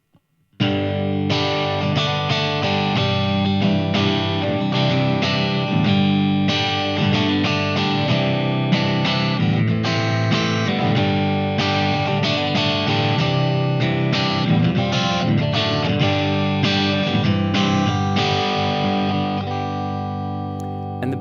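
An electric guitar with a single-coil pickup plays continuous chimey chords and lines through the crunch channel of a Blackstar AMPED 3 amp pedal, set for a Vox-style EL84 breakup, with mild distortion, loud and steady throughout with no talking.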